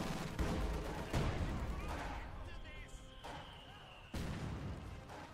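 German MG42 machine gun fire in a Company of Heroes 2 battle, loud bursts and impacts mixed with artillery-like blasts and busy battlefield noise, with talk over it.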